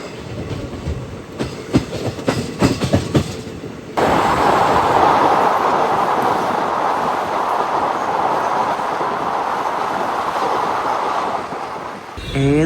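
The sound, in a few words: Ananthapuri Express train arriving at Paravur station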